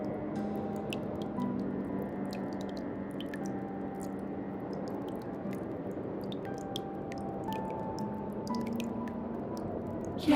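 Water sound effect of rising, flowing water: a steady wet gurgling bed with scattered sharp drips throughout, continuous and fairly close, with no voices.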